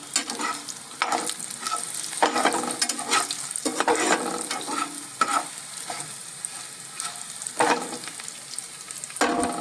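Okra fry is stirred in a pan over a continuous sizzle, with repeated scraping strokes of a spoon at an irregular rhythm, close and fairly soft, and no voices.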